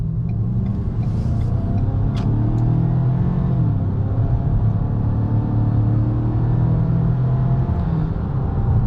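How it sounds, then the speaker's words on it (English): A 2023 Ford Maverick Tremor pulls away under steady acceleration, a continuous low engine rumble rising through the gears over road noise, heard from inside the cab with no talking. "Let's test that acceleration real quick for you guys."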